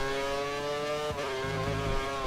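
A Formula 1 car engine from F1 2013 screams steadily at high revs during a qualifying lap at the Japanese GP, dips briefly as it shifts, then climbs again, loud and close with no talk.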